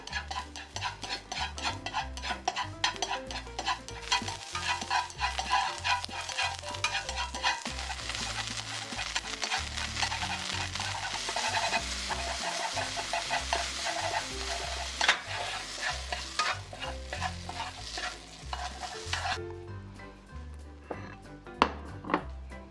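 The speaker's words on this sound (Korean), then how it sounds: "다음으로 도라지, 오이, 당근 순으로 볶아줄 건데요. 마찬가지로 소금 간을 살짝씩 해가면서 볶아주세요." Bellflower root, cucumber and carrot for japchae are stir-fried with a continuous sizzle and busy, rhythmic scraping and tossing in the pan. The sizzle quiets near the end, leaving a few clinks.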